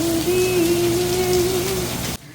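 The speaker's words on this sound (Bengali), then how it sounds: "এত কড়া বৃষ্টি দেখি নাই আর এত ঘন ঘন বৃষ্টিও দেখি নাই" Heavy rain falls in Saudi Arabia as a continuous broadband wash, overlaid by a prominent sustained pitched tone that carries almost to the end before the sound cuts off abruptly.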